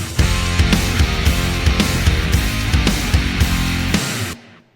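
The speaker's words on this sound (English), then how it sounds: "You got massive drum sound with a little bit of parallel compression" A full mixed drum kit processed with parallel compression and reverb plays a steady, punchy groove with loud kick and snare hits and bright cymbals, then stops cleanly with a short reverb tail.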